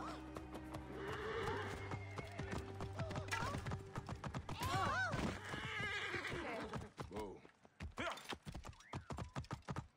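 A horse in Assassin's Creed Origins whinnies loudly with hooves clip-clopping, over music and effects, then quick clicking taps take over.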